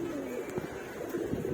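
Pigeons coo in a loft, low soft calls repeating through the short stretch with a steady hum of birds nearby; no voices.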